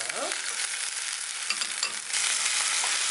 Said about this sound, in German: Haben wir jetzt schön scharf angebraten. Das Fleisch als auch die Garnelen.